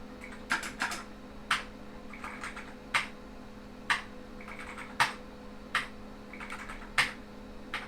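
Keys on a keyboard wired to a System/1 adapter are pressed one at a time, a series of distinct, close clacks at an irregular pace of roughly one per second over a steady electrical hum.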